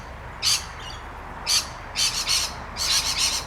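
Foreshore birds at a marine sanctuary sound alarm calls, with short, shrill bursts repeated several times in quick succession against a steady background hiss, fairly close and with no talk.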